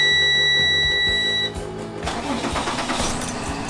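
A school bus diesel engine cranks and starts after a chime tone, then settles into a steady low idle with rising broadband rumble, close and loud.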